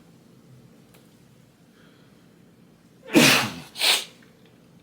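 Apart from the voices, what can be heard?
sneeze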